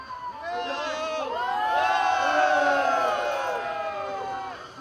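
A crowd at the start of a run cheers and whoops together, a loud swell of many excited voices that builds through the middle and then eases slightly.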